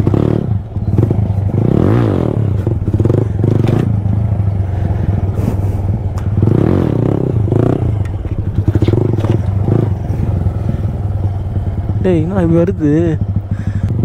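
An Apache motorcycle revs and roars loudly nearby during a bike stunt, with clattering and scraping sounds mixed in and people talking and shouting over the engine.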